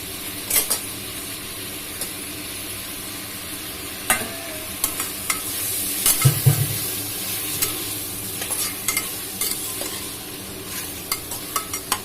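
Mutton rib bones sizzle and fry in a pan with tomato and turmeric, scattered clinks and scrapes of stirring, steady crackle throughout.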